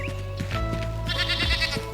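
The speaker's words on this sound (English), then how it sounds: "We got our Springland sheep over here in the other." Springland sheep in the Enshrouded game bleat in short wavering calls, mixed with other farm animal sounds over a steady game background hum.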